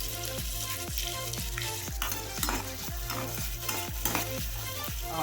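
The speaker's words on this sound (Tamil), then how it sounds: "வெங்காயத்தை லைட்டாக ஒரே ஒரு பரட்டு மட்டும் பரட்டிடுங்க போதும்." Chopped onions stir-fried in a hot pan for garlic chicken curry, a steady sizzle broken by regular scraping stirs of the spatula about every half second, close and loud with no talk.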